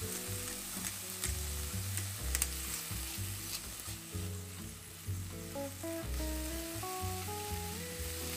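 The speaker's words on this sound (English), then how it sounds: "I'm just cooking the onions until they become soft and slightly translucent, stirring every now and then so they don't burn" Onions cooking in a pan, stirred every now and then, a steady close sizzle with occasional scraping stirs and soft music playing underneath.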